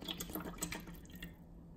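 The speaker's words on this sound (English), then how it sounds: "Let's pour some water in." Water is poured into a small test cup, a short, faint trickle and splash that fades out near the end.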